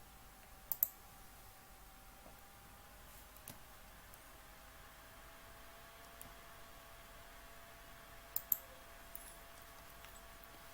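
A computer mouse clicks a video button, giving a few crisp, isolated clicks over a quiet background hiss.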